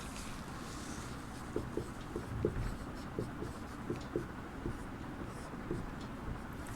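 Chalk or marker writing on a board during a Hindi language lesson, a run of soft, quick taps and strokes in uneven bursts over a low, faint room hum.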